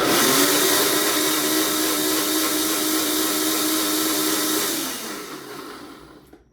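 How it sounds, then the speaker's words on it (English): A kitchen blender whirs loudly and steadily, blending an orange vinaigrette with citrus zest, then the motor winds down and stops near the end. "however you want to look at this blender"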